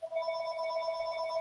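A telephone rings with a steady, sustained electronic tone held for the whole moment, fairly faint and alone with no talking.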